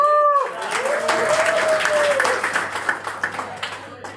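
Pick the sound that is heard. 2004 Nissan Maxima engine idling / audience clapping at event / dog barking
audience clapping at event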